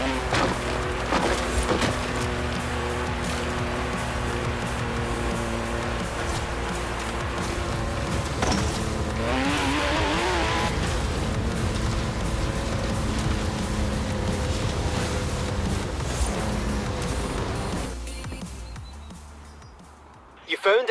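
A 7.7-litre V12 car engine in Forza Horizon 4 runs in a steady, loud drone for most of the stretch, with a brief rise partway through, then cuts out near the end.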